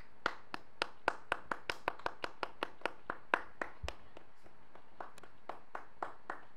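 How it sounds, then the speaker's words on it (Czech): Clapping for a winner, a sparse, rhythmic series of single sharp hand claps, fairly quick at first then slowing and thinning out, close and without talk. "Všichni zatleskejte."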